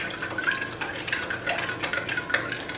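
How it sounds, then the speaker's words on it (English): Sugar and kosher salt are stirred into lemon juice for Haitian lemonade, a light liquid swishing with soft clinks against the container, close and continuous for a few seconds without speech. "let's go ahead and start stirring"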